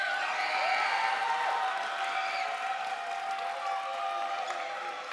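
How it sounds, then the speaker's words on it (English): Crowd at a gaming tournament grand final, the Arctic Gaming Experience, cheering and applauding in a steady, fairly loud wash of noise with no talk over it. "It is wonderful to hear all of you guys in the crowd cheer"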